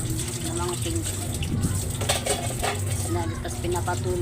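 Dishes and cutlery clatter and clink steadily while being washed and rinsed by hand, with running water and occasional scraping, close by and continuous, with faint voices in the background.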